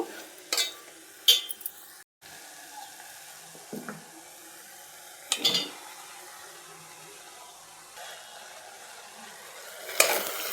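Bottle gourd pieces go into a pan of cooked onions for a tomato curry. Sparse stirring clatters and a few sharp scrapes sit over a low, quiet hiss of frying, with no talk.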